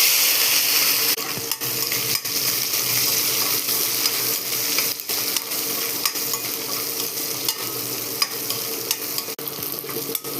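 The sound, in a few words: onion, garlic and curry leaves sautéing in a pan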